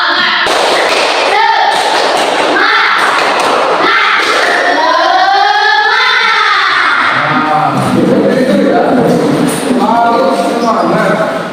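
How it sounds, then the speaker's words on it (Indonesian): Students standing in a classroom perform the rhythmic 'tepuk semangat' clapping led by the class leader: loud, patterned claps and thumps mixed with chanted voices, close and energetic throughout. "Biar semangat lagi ayo, semuanya berdiri, kita tepuk tangan dulu"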